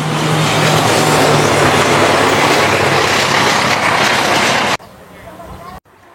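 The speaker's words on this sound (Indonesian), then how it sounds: "Dan ini belakang adalah kereta" A loud, continuous rumbling roar of a passing KAI commuter train dominates, then cuts off abruptly into quieter background noise.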